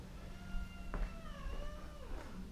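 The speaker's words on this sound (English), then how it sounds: "What you cats are fighting about" Cats fight and meow nearby, giving a drawn-out wavering yowl that rises and bends in pitch over a low background hum, with no talk.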